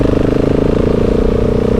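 A KTM 690 SMC R single-cylinder motorcycle fitted with a Leo Vince exhaust thumps loudly and close by, a rapid, steady pulsing beat from the exhaust running without voices.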